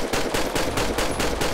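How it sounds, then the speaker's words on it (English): Rapid pistol shots in GTA 5 with a modded weapon sound pack, about eight quick cracks in a fast, even burst, loud and close with no talk. "how to increase your pistol fire rate and also the weapon sounds from this"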